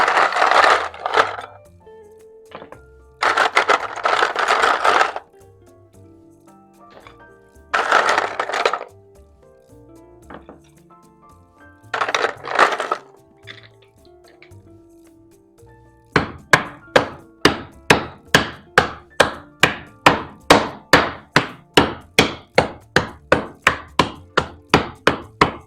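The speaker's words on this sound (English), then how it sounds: "Okay, we're going to crush up some ice." Ice being crushed for a tiki cocktail: four loud grinding bursts of a few seconds each, separated by pauses, then a fast run of sharp rhythmic cracks as the ice breaks down.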